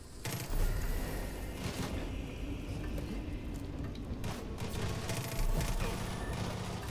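Gunfire in the video game Far Cry 5, a dense continuous volley of shots with louder bursts near the start and end, over a steady background rumble.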